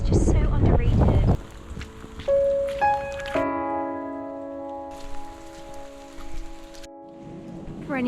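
Rain falls steadily outdoors in Britain, a dense hiss of drops that drops away as sustained musical tones take over midway before the patter returns.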